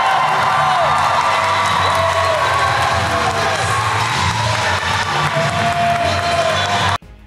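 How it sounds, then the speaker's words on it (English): A large comic convention crowd at a Cobra Kai and Karate Kid panel cheers, whoops and applauds loudly and continuously for Ralph Macchio, with shouts rising over the roar before it cuts off abruptly at the end. "everybody give a huge round of applause for Ralph Macchio!"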